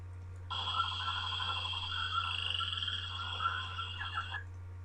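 Dense jungle ambience with steady chirping frogs and insects, a continuous layered chorus over a low constant hum, moderately loud throughout.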